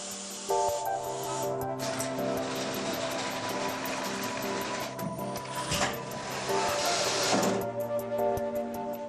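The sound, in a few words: Miele S8 vacuum cleaner cable pulled out and rewound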